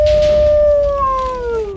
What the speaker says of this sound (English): All I have to do is howl at the moon, and I'll upgrade my powers even more.